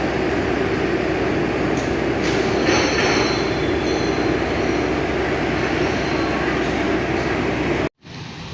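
A train running along the line on arrival at Tawang station in Semarang, a steady loud rumble of wheels and carriage noise with faint squeals, continuous and close, then a brief cut near the end.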